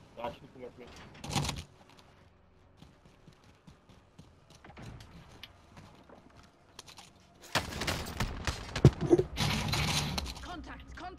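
Gunfire in the video game Call of Duty: Modern Warfare cracks in scattered shots, then swells into dense, loud bursts in the second half, with a player's voice talking over the early part.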